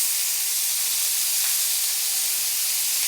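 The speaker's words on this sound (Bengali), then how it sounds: "এগুলো একটু তেলে ভাজি" Thick vegetable stalks frying in oil in a village kitchen in Medinipur, a steady loud sizzling hiss that continues unbroken.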